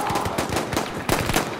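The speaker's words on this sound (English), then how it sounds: "I just shot you." Rapid automatic gunfire in the video game Battlefield 1, a fast, loud burst of repeated shots with slightly uneven rhythm, close and dominant throughout.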